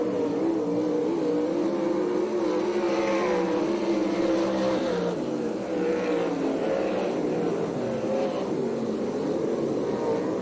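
ASCS Canyon Region sprint cars racing around the dirt track at Perris, California, a continuous loud engine roar with rising and falling pitch as cars pass, steady throughout.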